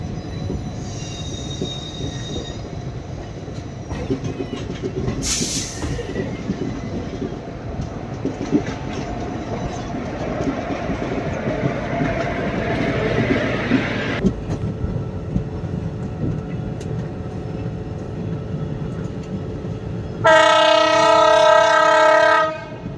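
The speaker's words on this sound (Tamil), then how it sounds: "இந்தாண்ட நிற்கிறது ட்ரெயின் பார்த்தீங்கன்னா திருவனந்தபுரத்துலேருந்து செகந்திராபாத் வரைக்கும் போகிற ஷபரி எக்ஸ்பிரஸ்ஸுங்க" The Sabari Express train stands at a railway station with a steady rumble and squeal of wheels and machinery, then a loud, sustained horn blast near the end.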